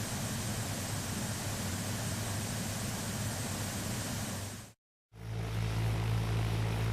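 Steady close roar of a Cessna 172 SP Skyhawk propeller plane's engine with broadband wind noise, cutting out briefly to silence before resuming with a stronger low drone.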